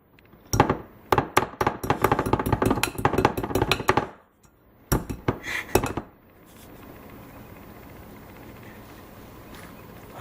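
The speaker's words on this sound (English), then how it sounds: "you end up with a whisk full of cream cheese and sugar that doesn't blend" A whisk clatters rapidly against a bowl of stiff cream cheese and sugar, dense metallic clinking for several seconds, a pause, then another short burst before fading to quiet room hiss.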